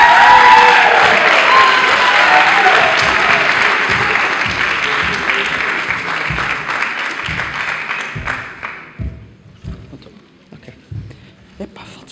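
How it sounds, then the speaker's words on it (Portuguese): Warm audience applause at a cultural entrepreneurship programme event in Portugal, loud and dense at first, then thinning into scattered individual claps as it fades out. "Portanto, palmas para o Hugo."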